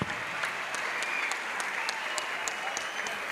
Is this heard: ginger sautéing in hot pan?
no